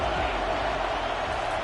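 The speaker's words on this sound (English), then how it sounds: "if you didn't know this was a big play, the crowd is telling you" A football stadium crowd roars during a big third-down play, a dense, steady wall of cheering noise that holds without letup for the whole moment.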